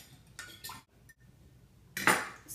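A utensil scrapes and clinks against a bowl while béchamel sauce ingredients are stirred together, producing a few soft metallic taps followed by a louder burst of clattering near the end.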